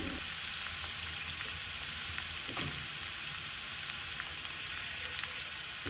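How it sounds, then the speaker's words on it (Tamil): Onions and garlic sauté in hot oil with a pinch of salt, giving a steady close sizzle with faint crackles throughout and no talking. "இப்போ நல்லா வெங்காயம் வந்து டிரான்ஸ்பரண்ட் ஆகிற வரைக்கும் வதக்கலாம்."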